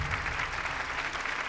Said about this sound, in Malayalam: ഓക്കെ, ഒരു നല്ല കൈയടി കൊടുത്തേ